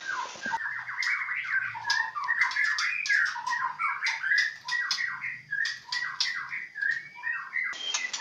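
Loud, busy squawking and chirping from several magpie robins in a breeding aviary, harsh calls overlapping continuously with little pause, close by.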